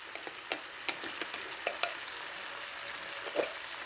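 Food dumped into a hot skillet along with its juice, a steady crackling sizzle with a handful of sharp pops and scraping taps, close and moderately quiet, with no talking.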